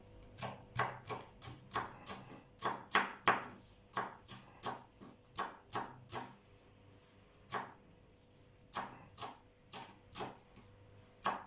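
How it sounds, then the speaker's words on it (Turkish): Knife chopping a pinch of mint and parsley finely on a board for garnished pickles, a steady run of close, crisp taps with brief pauses. "Burada da bir tutam nane, bir tutam maydanoz. Bunu da incince kıyacağım içerisine."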